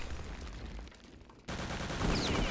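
Gunshots in a Return to Castle Wolfenstein 6on6 match on a snowy map, a burst of loud close firing breaking in abruptly after a quieter stretch and continuing to the end.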